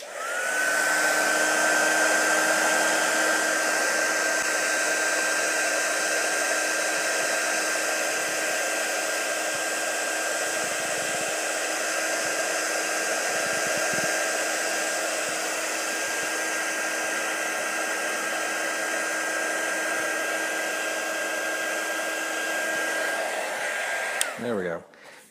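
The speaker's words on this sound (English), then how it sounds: "you don't want to just keep the heat gun on them too long because you'll melt" A heat gun blows on 3D printed miniatures from a Prusa Mini printer, a steady close whooshing roar with a faint whine that holds for about twenty-five seconds before shutting off.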